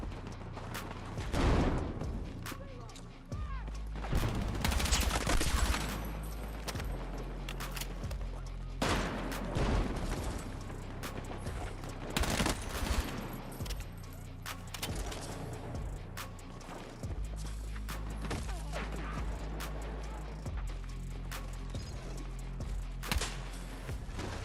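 Gunfire in the video game Battlefield 6 during a battle royale match, with bursts of sharp shots and rattling volleys, some close and loud, others more distant, spread irregularly across a noisy firefight.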